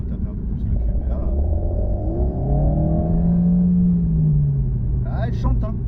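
An Alpine A110 S Enstone sports car revs up, its engine note climbing in a smooth rising sweep and then falling back, loud and close, over steady road rumble, with a voice talking alongside.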